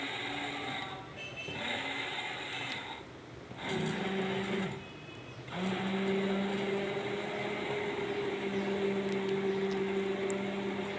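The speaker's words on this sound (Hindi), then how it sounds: "अब ये मैं हैंड ब्लेंडर के साथ इनको मैश कर लूँगी।" An electric hand blender whirs in bursts while mashing food for porridge, buzzing steadily, pausing briefly twice, then running continuously at close range.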